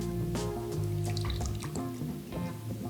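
Soy sauce pours into a measuring spoon, a short close splash and drip of liquid over steady tonal background sound.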